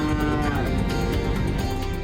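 Cattle mooing on a golf course, a steady, loud lowing that carries throughout the two seconds close by, with no talk over it.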